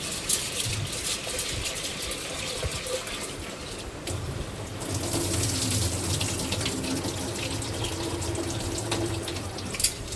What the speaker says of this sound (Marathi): डाळ धुवून घेते तिला लगेच शिजायला ठेवायची डाळ.